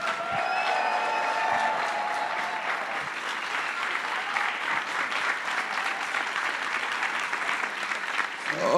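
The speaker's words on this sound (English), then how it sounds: "Give them a big round of applause." Loud, sustained applause from a large crowd at a political party general assembly, with a brief whistle or cheer early on, clapping holding steady to the end.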